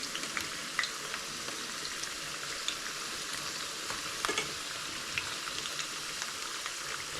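Potatoes are stirred in a pan as they cook, giving a continuous close frying sizzle with light scraping and clicking of the utensil, and no voices.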